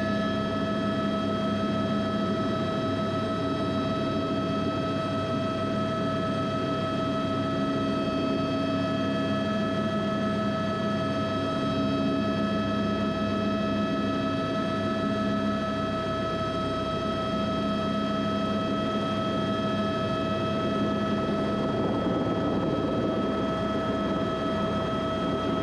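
A helicopter hovering low, about five feet off the ground during a flight lesson, giving a loud, constant drone with steady whining tones and a rough low rumble that holds unchanged throughout.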